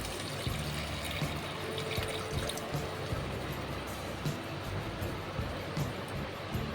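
Water poured into a pan of lightly fried vegetables, a steady rushing, bubbling pour that continues the whole time at even loudness with no speech.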